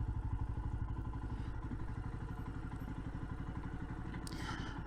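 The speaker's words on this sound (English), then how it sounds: "I'll just switch the engine off while we're stopped here." A motorcycle engine idles while stopped at a viewpoint in the Peak District, a steady, close, rhythmic putter with a brief rushing noise near the end.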